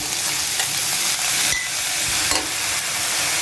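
Chopped potato and carrots hiss and sizzle steadily in a hot pan, a loud continuous frying sound with a few soft knocks and stirring bumps and no voices.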